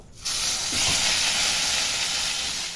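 Pointed gourd pieces hit hot oil, setting off a loud, steady sizzle that bursts in abruptly and holds evenly for nearly three seconds, with no voices.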